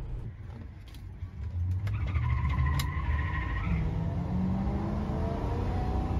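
A 1965 Pontiac Bonneville street machine accelerating at half throttle, its engine rising steadily over several seconds with the rear tires briefly squealing as the back end swings out, loud and close.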